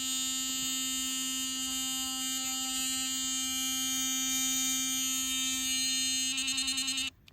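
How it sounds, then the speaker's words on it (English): An electric toothbrush held to tomato flowers for pollination gives a steady, loud, high-pitched buzz that runs unbroken for several seconds, turns briefly rattly near the end and then cuts off. "this method involves an electronic toothbrush. It's going to get really loud and annoying"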